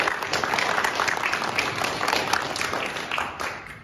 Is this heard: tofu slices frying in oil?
no